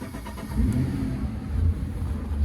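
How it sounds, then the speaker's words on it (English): A Volvo Penta 300 HP V8 on a 2022 Four Winns V258 duo-prop boat restarts warm, a deep low engine rumble catching and settling into a smooth idle, close and steady. "Start it again, warm restart."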